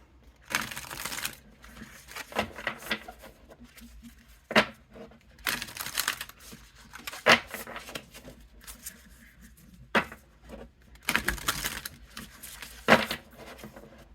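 Crisp riffling and snapping bursts of an oracle card deck being shuffled, several separate rounds with soft handling noises between, close up and fairly quiet.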